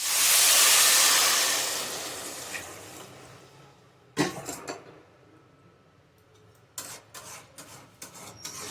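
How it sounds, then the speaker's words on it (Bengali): Water poured into a hot pan of fried rice for pulao, giving a loud hissing burst at the start that fades, followed by scattered clatters and scraping of utensils. "আমি এবার এর মধ্যে জলটা ঢেলে দেবো"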